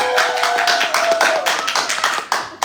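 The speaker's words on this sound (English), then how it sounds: "Let's get a quick round of applause, see if we can't get it up to 10." A brief round of audience applause in a church hall, dense clapping from many hands starting at once and holding steady for a few seconds, close and fairly loud.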